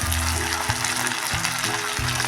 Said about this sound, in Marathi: कांदा पण आपण चांगला असा तीन चार मिनटं मऊ होईपर्यंत परतून घ्यायचा आहे